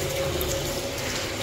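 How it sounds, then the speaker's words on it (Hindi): A jacuzzi tub in a hotel bathroom fills with water, giving a steady, even rush of running water that continues unbroken throughout. "अभी पानी भर रहा है,"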